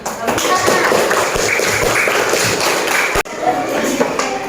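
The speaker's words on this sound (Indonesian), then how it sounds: "tepuk tangan untuk Aska dan Nesya karena sudah berani mengungkapkan pendapatnya." Classroom applause from students for two classmates, a loud, dense wash of clapping with some thumps that cuts off briefly near the end, then resumes.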